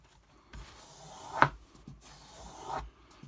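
A knife blade drawn across a strip of leather to strip off the burr, two soft rubbing strokes with a faint light tap between them, quiet and close.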